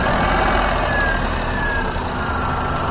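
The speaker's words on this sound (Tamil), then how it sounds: "வாங்க வண்டியோட இன்ஜின் சவுண்ட் எப்படி இருக்கு அப்படின்றத கேட்போம்." A single-owner Maruti Alto petrol car engine runs at a steady idle, a low continuous hum with a faint whine on top, fairly loud and even for the whole few seconds, with no voices.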